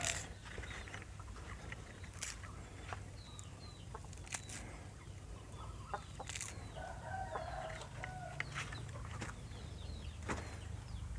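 Hens cluck and chatter in a farmyard while a rooster crows a few times, with penned chickens, set against a low steady background hum.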